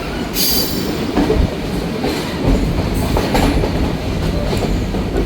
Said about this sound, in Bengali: এর জন্য এখানে ট্রেনটি বেশ আস্তে আস্তে থ্রুপাস যাচ্ছে।